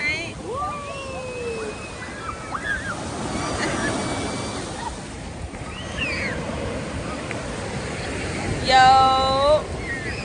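Ocean surf breaking at a sunny beach, a steady wash of waves with wind buffeting the microphone, while several people talk and call out excitedly over it throughout.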